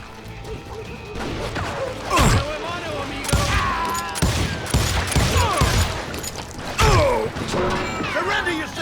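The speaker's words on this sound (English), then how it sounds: "They're shooting in the street!" Gunfire in a street shootout in the Western video game Call of Juarez Gunslinger, with several sharp bursts and crashes mixed with mechanical clatter, while voices shout over the action.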